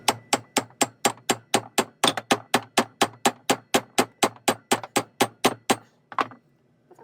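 A hammer drives a pin home on a Wilton bullet vise, about twenty-five sharp, evenly spaced metallic blows in quick rhythm, close and loud, then a pause and one final softer strike.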